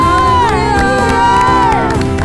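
A church congregation shouts and cheers loudly in a sustained, ringing wave of voices praising together, close and full throughout.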